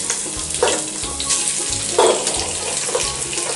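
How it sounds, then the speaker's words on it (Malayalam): Onions sautéing in a pan for a chicken biryani masala give a steady sizzling hiss close by, broken by a few clinks and stirring bumps, with no voices. "അതിൻ്റെ കൂടെ നമുക്ക് മസാലക്ക് വേണ്ട ഉള്ളി ഇട്ടിട്ടൊന്ന് വഴറ്റിയെടുക്കണം."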